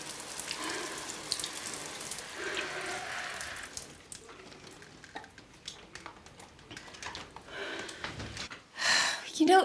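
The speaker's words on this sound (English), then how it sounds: "will you just turn the water off?" Water runs from a tap into a sink, a steady hiss that keeps up through the clip. Voices talk tensely over it and there are short gasps.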